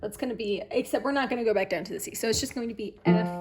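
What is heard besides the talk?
None of the usual background noises is heard.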